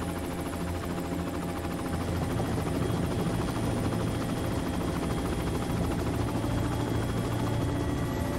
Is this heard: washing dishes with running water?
no